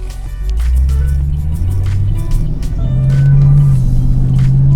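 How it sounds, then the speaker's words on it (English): Cabin sound of a 2010 Chevrolet Camaro with a V8 engine, a steady low rumble heard from inside the car with a slight rise in pitch and loudness partway through. "it sounds really nice, even inside the car with it having that V8 motor."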